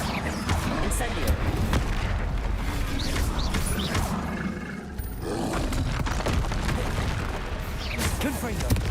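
Spell combat in Hogwarts Legacy including the Incendio fire spell, dense booming blasts, whooshes and crackling impacts layered with game sounds, loud and continuous, with a voice speaking over the action.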